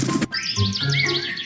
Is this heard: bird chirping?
yes